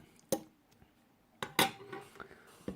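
A spoon clinks against dishes while cooking quick Asian salmon noodles: a few sharp, bright metallic taps spaced apart, one near the start and a cluster later, close and clear over a quiet background.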